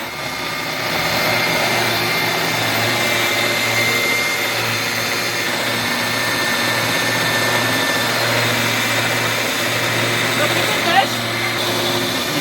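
Power drill boring a hole in a garden setting, a loud sustained whine running almost the whole time with a small knock near the end.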